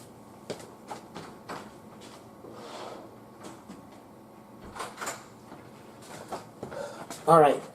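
A door is pushed shut at home, a few knocks and clunks ending in one louder thud near the end, with faint voices murmuring in the background.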